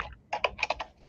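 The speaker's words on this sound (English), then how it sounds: "I can hear typing too, so somebody's not muted." Several quick keystrokes on a computer keyboard come through an unmuted line during an online utility commission meeting. They form a short burst of close, crisp clicks with no one talking over them.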